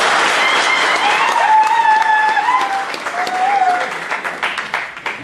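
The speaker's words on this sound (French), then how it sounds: "Il faut applaudir pour cela." Guests applaud at a silver wedding anniversary celebration, a sustained round of clapping that thins out toward the end, with voices and a tonal musical or vocal line running over it.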